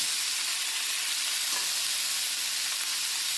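Beef chunks for chili colorado sear in a hot pan, giving a steady, even sizzling hiss that holds from start to finish with no talking.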